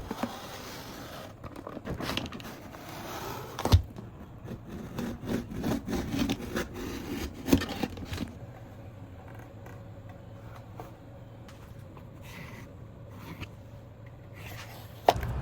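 A blade cuts RC shuttle wings out of 5mm foam board, giving faint, uneven scraping and rubbing strokes with occasional sharper clicks, close by and with no talking.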